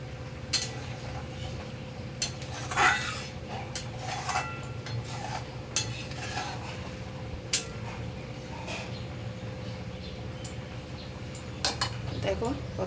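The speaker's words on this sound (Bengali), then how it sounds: "দিয়ে আমি নাড়াচাড়া করে নেব।" Metal spoon stirring milk into a Bengali prawn malai curry in a pan on a low gas flame, with repeated clinks and scrapes against the pan over a steady low background hum.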